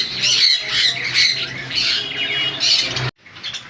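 Parrots at a bird sale, conures and cockatiels, give loud, harsh squawks in repeated bursts, close by, with a brief cut near the end.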